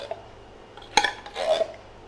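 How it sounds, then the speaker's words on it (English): A spoon clinks against a casserole dish while cream of mushroom soup is spooned over beef, giving one sharp metallic tap followed by a soft wet scrape, close and brief. "Now I can use this spoon. So just spoon it over"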